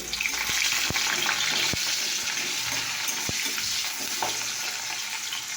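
Onion frying in a pan gives a loud, constant sizzle with a few sharp knocks of a utensil against the pan; no one speaks.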